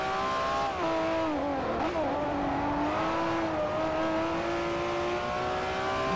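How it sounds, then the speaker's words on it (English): A Lamborghini Murcielago in Forza Motorsport 4 revs hard in second gear, holding a loud, sustained high-pitched engine whine that wavers slightly as the revs shift. "You're in second gear, you're revving the ever-living fuck out of the car"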